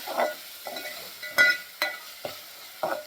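Garlic-ginger paste frying in a pan for Amritsari pindi chole, heard as a quiet background sizzle broken by several sharp spoon-scraping stirs at irregular intervals, no talk.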